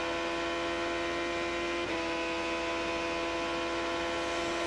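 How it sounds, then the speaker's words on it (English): A 2005 Indianapolis 500 IndyCar engine drops in pitch and RPM while slowing in race traffic, a steady harmonic drone with a small dip partway through, continuous and fairly loud over a bed of broadband noise. "Listen to the engine now,"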